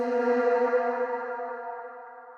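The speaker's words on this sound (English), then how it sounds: "the reverb swells back up nicely and not abruptly" A sustained, echoing tonal wash that blooms gradually and lingers, its harmonic layers slowly fading away without any abrupt cutoff.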